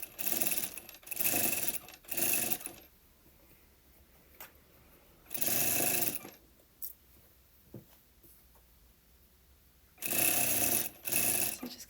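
Sewing machine stitching a trouser side seam about a centimetre from the edge, running in three loud bursts of steady whirring separated by quiet pauses, close by with no talk.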